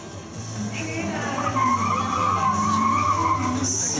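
Subaru BRZ sliding through a demo run at a Subaru event, tires skidding and squealing continuously with the engine droning underneath, loud and sustained.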